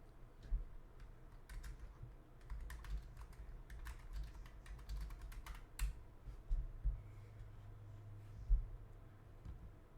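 Typing on a computer keyboard, with irregular bursts of quick clacking keystrokes and short pauses between them. The keys are faint and close in a quiet room, with a low hum underneath.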